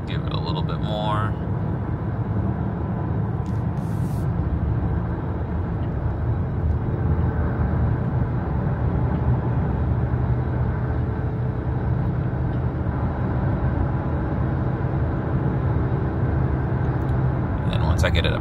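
Jeep Grand Cherokee with a 3.6 V6 accelerating while towing a trailer, a steady low engine and road rumble that swells gently as the throttle opens, with a driver talking over it.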